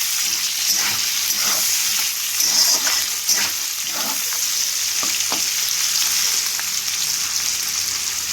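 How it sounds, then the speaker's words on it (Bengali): Onions fry in a pan until brown for a thin Bengali chicken curry, giving a steady, close, even sizzle that continues throughout with faint stirring and no talk. "এদিকে পেঁয়াজটাও ভালো করে ভাজতে হবে, একটু ব্রাউন কালার না আসা অবধি পেঁয়াজটাকে কিন্তু ভাজতে হবে"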